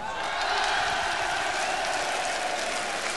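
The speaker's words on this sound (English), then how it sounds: "Give yourselves a clap." A concert crowd claps steadily in a dense, continuous wash of applause that holds at one level from start to finish, with no voices standing out.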